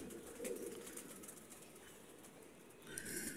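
Pigeons in a home loft, with soft cooing and brief wing flaps over steady background noise; faint and fairly distant, with no speech.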